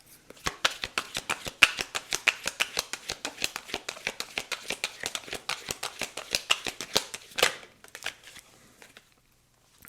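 Oracle or message cards are shuffled in a long run of rapid, crisp riffling flicks that are close and steady, then slow and stop near the end, with no talking.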